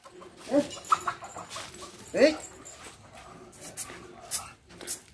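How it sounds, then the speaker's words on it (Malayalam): A Rajapalayam dog on a farm whimpers and yips in short, close bursts over ongoing talk, with a few sharp higher squeals. "ഇതാണ് രാജപാളയം ഡോഗ്."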